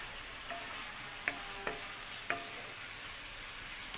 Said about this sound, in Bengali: এখন সবগুলো উপকরণ ভালো করে একটু নেড়েচেড়ে মিশিয়ে নিচ্ছি।